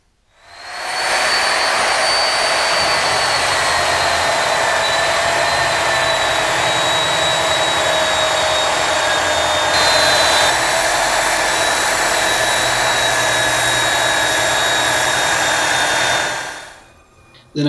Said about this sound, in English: back to the belt sander to sand it to fit to the shape of the wall